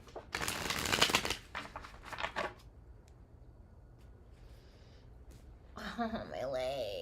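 Tarot cards being riffled and shuffled up close in quick bursts, then a pause with soft rustling, followed by a voice speaking briefly at the end.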